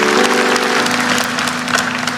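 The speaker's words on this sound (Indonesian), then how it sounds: "kasih tepuk tangan Tuhan" A church congregation applauds together at a worship service, a dense continuous patter of many hands filling the space at close range, with no voices over it.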